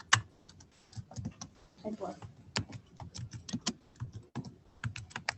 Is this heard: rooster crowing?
no